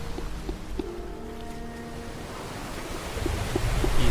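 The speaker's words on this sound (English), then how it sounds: "The surrounding seawater surges violently." Seawater surging in a fantasy game scene, a steady broad wash of surf with low rumbling swells, faint tonal music lines drifting above, and the surge growing louder and heavier toward the end; no talking.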